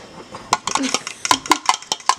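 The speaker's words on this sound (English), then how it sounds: "I'm going to beat an egg" An egg beaten in a bowl, heard as quick, irregular clinks and taps of a utensil against the dish in a rapid burst, loud and close.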